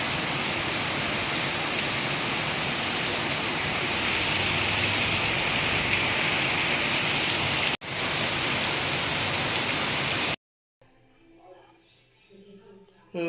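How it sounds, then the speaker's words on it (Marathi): Heavy rain pours in a dense, loud, steady roar, then cuts off abruptly near the end, leaving quiet faint sounds. "आज खूप जोराचा पाऊस आहे"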